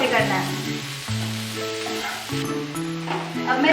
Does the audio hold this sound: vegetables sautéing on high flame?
yes